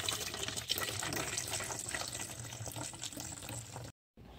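Water pouring into a container to mix a bike wash solution, a steady close splashing fill that stops abruptly just before the end.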